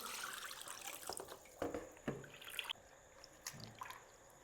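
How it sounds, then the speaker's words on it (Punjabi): Cold water poured over a freshly dyed dupatta in a tub, sounding as uneven splashing and trickling with a few louder gushes, close by and with no voices. "ਠੰਡਾ ਪਾਣੀ ਪਾਵਾਂਗੇ ਜੀ"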